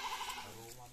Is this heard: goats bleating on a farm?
yes